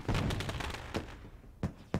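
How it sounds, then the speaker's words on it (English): Fireworks go off at Southern National in a racing sim: a quick burst of rapid pops, then scattered single bangs with quiet gaps between them, moderately loud. "the fireworks are still shooting"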